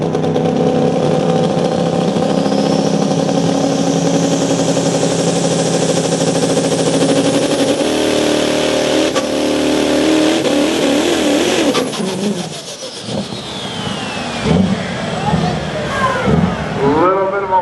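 Engines roar loudly and continuously at a night race on an oval dirt track in Langford, New York, the pitch climbing and falling as cars pass close. The roar thins near the end while voices come through.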